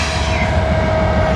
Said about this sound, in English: But we have another train going eastbound too.